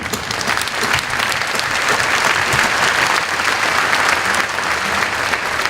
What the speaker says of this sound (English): I ask you to give yourself a round of applause